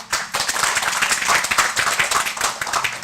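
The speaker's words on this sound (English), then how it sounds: "let's give them a round of applause" Close, lively applause from a gathered audience at a Buddhist talk, with individual hand claps sharp and distinct in a brisk, continuous patter that stays loud throughout.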